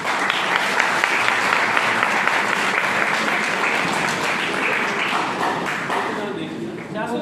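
An audience clapping loudly and continuously, a dense roar of applause that holds steady and then slowly tapers near the end.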